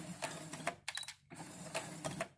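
A sewing machine runs in short bursts while back stitching a cloth mask, a quiet rhythmic mechanical whirr that stops briefly partway through.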